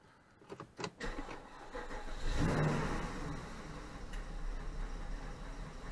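A Porsche Cayenne 957S in a garage cranks with a few clicks, then its engine catches and swells into a brief rev before settling into a steady idle, close and moderately loud, with no talking.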